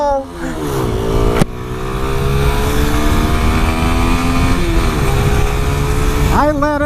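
Engine of a 2006 Honda CBR125 motorcycle revving hard for a launch, holding a steady buzzing drone, then dropping away as it stalls, followed by a brief restart rev near the end.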